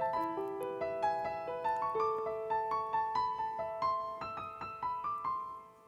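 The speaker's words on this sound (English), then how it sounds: "what you're hearing now is a piano, so we're sending back the MIDI data to the piano" Piano driven by MIDI data plays a steady run of clear melodic notes with sustained chords, each key strike ringing and decaying in a regular rhythm, close and alone with no voices.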